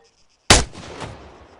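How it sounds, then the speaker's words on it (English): A single sharp rifle report from the Arma 3 game's Prologue campaign cracks out suddenly after a brief silence, loud and close, then trails off in a fading echo. "When you're ready, put some rounds down range."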